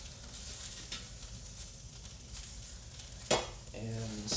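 Garlic and vegetables sizzle and blister in a pan, a soft continuous frying crackle with a brief stirring clatter near the end.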